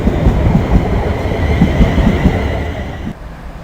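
A passenger train, the 1405 Euston to Birmingham New Street, hauled by locomotive 35122, rumbles steadily past at close range with a heavy low roar and rhythmic wheel clatter, easing slightly near the end.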